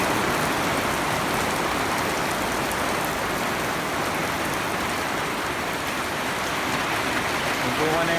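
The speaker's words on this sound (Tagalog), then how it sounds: "Ulan, gabi." Heavy rain falls at night, a dense, steady hiss of water pouring onto surfaces that stays loud and constant throughout, with no other sounds standing out.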